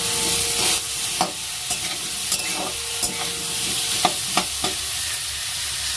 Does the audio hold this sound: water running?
no